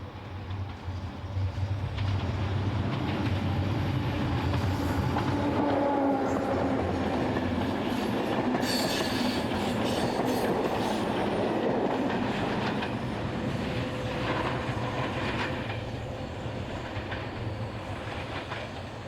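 Train 8627 pulls out of Montrejeau on the Toulouse to Luchon service, a loud, steady rumble of rolling stock with rhythmic wheel clatter on the rails, sustained and close throughout.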